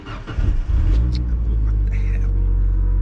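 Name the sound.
car engine starting without key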